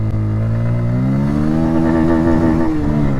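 A Bajaj Pulsar N160 motorcycle launches and accelerates, its engine note climbing steadily in pitch as it revs up through the gear, loud and close with no talk.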